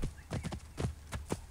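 Horse hooves clip-clopping in Assassin's Creed Origins, a brisk irregular run of sharp, close hoof strikes, roughly six or seven beats in quick succession, with no talk over them.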